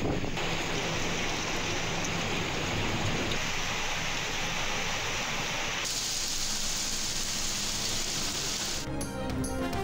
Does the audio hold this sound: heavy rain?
yes